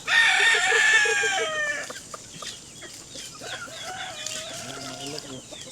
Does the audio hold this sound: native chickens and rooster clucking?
yes